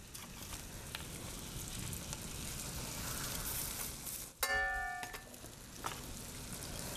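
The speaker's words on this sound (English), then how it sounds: "Now obviously you want to hear that good sizzle." Chicken sizzles steadily in a frying pan for arroz con pollo, a crackling hiss with a sharp clatter partway through.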